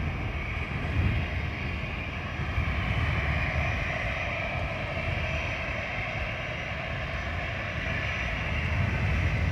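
An Aer Lingus airliner departs Dublin Airport, its jet engines a steady, broad, loud roar that holds unbroken without voices.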